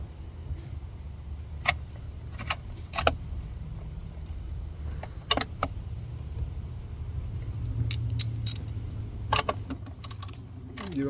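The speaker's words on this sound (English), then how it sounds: "we just tighten it up." Bolts are tightened with a ratchet wrench on the battery of a 2021 Toyota C-HR, scattered short clicks and ratcheting bursts over a low garage rumble, near and moderately loud.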